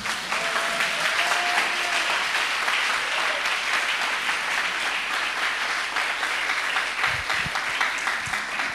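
A church congregation applauding during a worship service, a dense, steady clapping from many hands that carries on for several seconds without talk.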